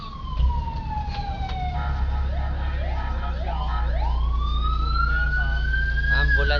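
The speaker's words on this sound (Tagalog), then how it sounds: "Ambulansya." A wailing ambulance siren sweeps up and down over steady traffic rumble, loud and fairly close, with a second siren tone layered in.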